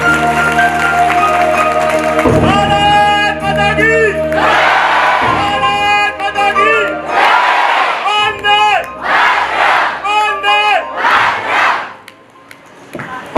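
Loud applause and cheering from an audience at a Makvana family community gathering, sustained clapping with whoops and shouts throughout, fading toward the end.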